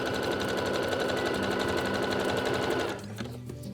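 A sewing machine running a zigzag stitch to attach elastic to jersey fabric, a fast, even, close mechanical whirring and needle patter that runs steadily for a few seconds, then slows and stops.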